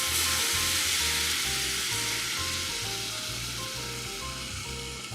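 Wine hitting a pot of sautéed onions sets off a loud, steady sizzle with a dense hiss throughout, fading slightly toward the end.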